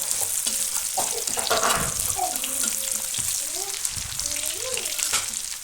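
Garlic frying in two large spoonfuls of oil on a tawa, a dense bright sizzle close up with a few stirring scrapes, while a voice talks over it.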